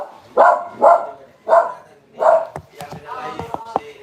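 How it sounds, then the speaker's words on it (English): Several dogs bark loud and close in four strong barks, followed by rapid yips and whimpery calls, with no talk over them. "The dogs are barking."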